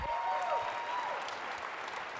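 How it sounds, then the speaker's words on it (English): An audience at a young professionals summit closing session in Omaha applauds steadily for a speaker. The clapping is moderately loud and even throughout, with a faint tonal whine running through the opening part. "let's give another round of applause to Beth Katz"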